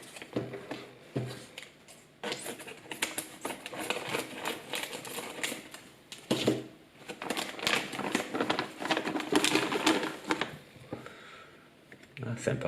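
Packaging for toy tires for a WPL B-24 RC truck being opened by hand, with crinkling and tapping handling noises, a few louder bursts, and speech heard over them.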